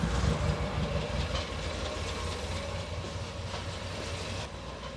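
A 1966 Triumph Spitfire four-cylinder, four-stroke engine starts with a loud burst, then settles into a steady, close rhythmic running chug, with no one talking.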